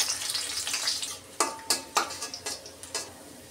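Onions sizzle in hot oil in a wok, with a steady frying hiss under a series of sharp scrapes and clinks from a spatula stirring against the pan.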